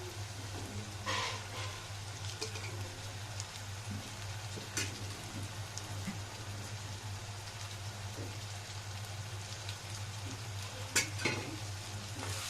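Green chilli pieces fry in hot oil for an egg fry, a steady close sizzle with occasional spoon scrapes and taps against the pan over a low constant hum.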